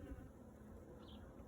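Bees buzz faintly around a compost bin they are moving into, a soft continuous hum with low rumbling outdoor background and no voices.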